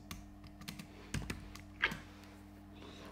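Typing on a computer keyboard, a sparse run of soft key clicks with a couple of sharper taps, close and quiet over a faint electrical hum, no speech.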